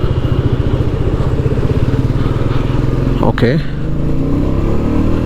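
Royal Enfield Meteor motorcycle running while being ridden, a steady close thrumming engine note that briefly shifts pitch partway through, under a rider's voice.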